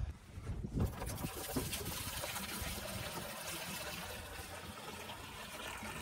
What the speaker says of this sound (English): the first thing we're gonna do is pour in the mineral spirits